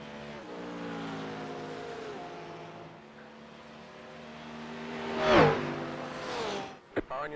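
Race car engines drone steadily, then one car roars past up close with a sharp rising-falling whoosh, in the iRacing simulator at Road America in a GT race.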